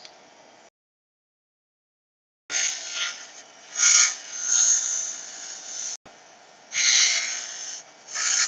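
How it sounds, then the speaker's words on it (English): Bolts being cleaned up by hand in a workshop during work on a car's cowl and wiper arms, giving repeated rasping, scraping strokes in bursts, fairly close, with a brief pause partway through. "Clean up your bolts."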